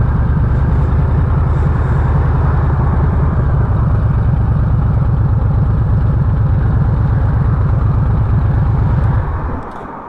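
A 2023 Harley-Davidson Breakout motorcycle idles loud and close, its V-twin giving a steady deep lumpy throb for nine seconds before the level suddenly drops.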